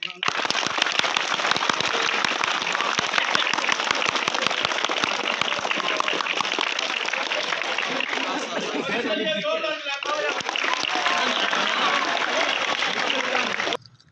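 An audience at a college drama event at Global Science School and College, Chakswari, breaks into sustained applause. The clapping roars on for about fourteen seconds, mixed with crowd chatter and voices.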